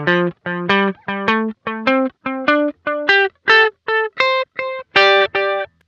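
A guitar run through a Sonicake Levitate delay pedal with feedback turned all the way down, played as a series of short distorted chords, each followed by a single echo repeat, steady and rhythmic, no voices.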